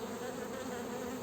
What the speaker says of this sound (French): les abeilles sont vraiment douces sur le cadre